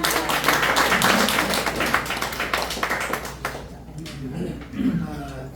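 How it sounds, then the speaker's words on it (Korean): A church congregation breaks into loud, dense applause for several seconds, then it thins out and fades while voices come in underneath. "하나님 앞에 영광의 박수"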